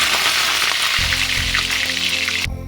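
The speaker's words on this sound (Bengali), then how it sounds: "সর্ষের তেল দিচ্ছি আর এই দেখো প্রথমে আমি আলুগুলো ভেজে নেব" Potatoes frying in mustard oil in a wok, a dense steady sizzle and crackle throughout, with a low rumbling hum joining partway and the sizzle briefly thinning near the end.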